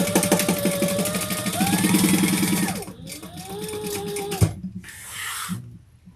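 A sewing machine rattles through stitching on a crossbody bag in quick, close bursts, its pitch shifting as the speed changes, then stops with a clack and brief handling noises.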